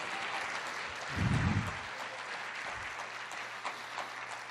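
A church congregation applauds in a steady, fairly distant wash of clapping that runs the whole way through, with a few low thumps.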